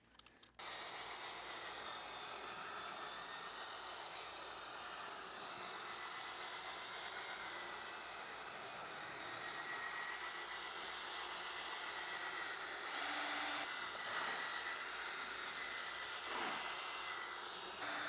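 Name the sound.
drill brush scrubbing car carpet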